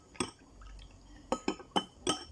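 A spoon clinks against a glass while honey, ginger and water are stirred, several sharp separate taps, one early and four more in a quick uneven run near the end, over quiet liquid sloshing.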